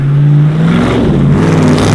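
A Chevrolet Monte Carlo with a retrofitted engine revs hard and close, pitch climbing then easing and rising again in a loud, continuous roar.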